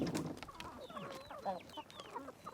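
Several chickens in Puerto Rico cluck and squawk close by, with overlapping chirpy calls and scattered rustling.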